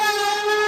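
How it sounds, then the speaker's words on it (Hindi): Conch shell blast played electronically by a touch-activated wisdom flute device, a steady sustained horn-like drone that holds loud and unbroken throughout, with no talking over it. "तो आप देखेंगे शंख की आवाज आपको आएगी।"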